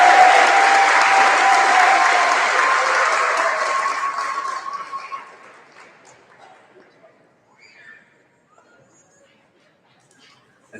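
Audience applause at a middle school 8th grade awards ceremony, a loud sustained round of clapping that gradually fades out over several seconds, leaving near silence with a few scattered late claps.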